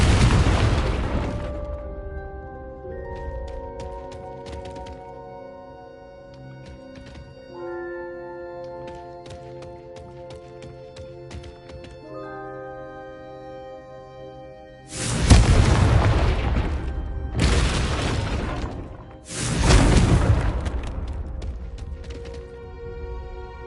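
Confringo spell blasts from Hogwarts Legacy: a booming explosion at the start, then ringing tonal game ambience, followed by three loud fiery bursts in quick succession that each roll and fade.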